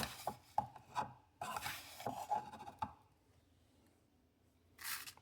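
Ground coffee being scooped and stirred for a pour-over brew, heard as a run of close, soft gritty scrapes and taps for about three seconds, then a quiet pause and one last brief rustle.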